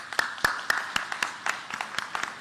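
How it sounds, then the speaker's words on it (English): At a human rights celebration gala, a small audience claps in scattered, uneven bursts, a dozen or so distinct claps close by over a faint room murmur. "Let's give Alex a huge round of applause."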